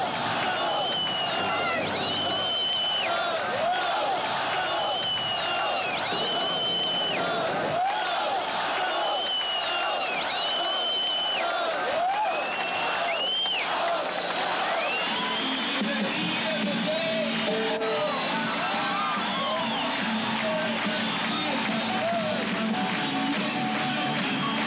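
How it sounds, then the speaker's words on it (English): A capacity stadium crowd of about 70,000 screaming fans at a concert, a dense, continuous roar of high-pitched shrieks and cheering that fills the whole stretch while someone talks over it. "The capacity crowd of screaming fans"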